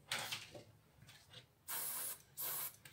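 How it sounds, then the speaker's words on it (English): Aluminium-coloured paint sprayed onto model aircraft parts for a Mitsubishi Zero kit inside a spray booth; soft hissing bursts, with two longer, steadier blasts near the end, quiet and close. "Okay, so we are in the spray booth. We're painting the parts in the aluminium color."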